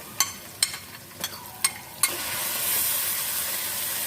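Grated ginger and onion tossed into a hot pan for aloo matar, with a few sharp spoon taps on the pan, then a steady loud sizzle of frying.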